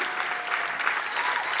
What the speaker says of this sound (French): Applaudissements s'il vous plaît pour Perrine Deza